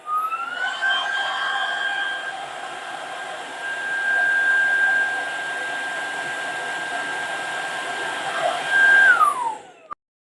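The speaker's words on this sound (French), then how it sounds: "Le bruit de cet aspirateur ne me choque pas plus qu'un autre." A cordless Erabros EV1 vacuum cleaner runs on carpet with a steady high-pitched whine close by, its tone rising briefly near the end before it switches off.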